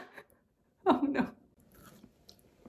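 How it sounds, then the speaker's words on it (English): A homemade crunchy snack is bitten and chewed up close, giving one loud crackling crunch burst midway, then a few faint chewing noises in otherwise quiet surroundings. "Can you hear the crunch?"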